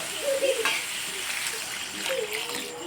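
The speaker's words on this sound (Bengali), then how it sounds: "এবার জল দিয়ে দিচ্ছি।" Water is poured into a pan of simmering chicken ghugni with peas and boiled potato, producing a hissing sizzle and soft splashing that runs steadily, with a brief voice over it.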